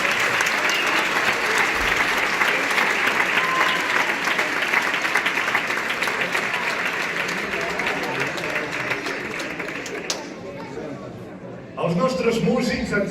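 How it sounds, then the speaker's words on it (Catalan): An audience applauds the musicians of a piano-led ensemble at a city gold medal ceremony, a broad sustained wash of clapping that fills the hall, thins briefly near the end, then swells again. "Un aplaudiment pels músics."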